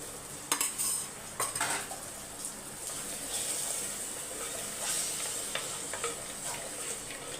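A spoon stirs curd into beetroot pulao in a pan, producing scraping metal clinks and a few sharp taps over a soft, steady sizzle, close and fairly quiet.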